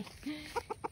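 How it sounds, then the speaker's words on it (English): A silkie rooster clucks in a short series of soft, close clucks while being fed tomatoes, with faint background sound. "He is the best silky rooster ever."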